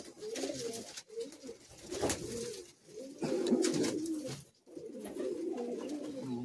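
Madrasi high-flying pigeons coo steadily inside a loft, several birds overlapping in soft, rolling phrases with short pauses between bursts.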